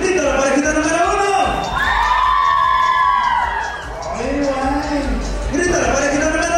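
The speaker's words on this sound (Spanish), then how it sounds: "grita la parejita número 1." A dense crowd at a couples' dance contest in Charlotte, North Carolina cheers and shouts loudly and continuously, high whoops and screams rising and falling in waves, with no pause.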